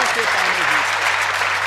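Audience applause at a Hindi poetry recital (kavi sammelan), a dense, steady patter of clapping filling the room, with a voice speaking briefly over it.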